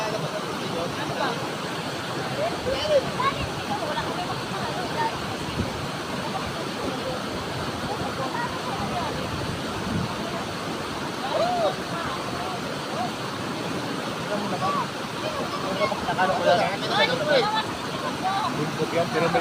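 Water pours out of a natural spring on a mountainside at Mabitak, Tanay, making a continuous outdoor rushing wash with people talking and calling out over it.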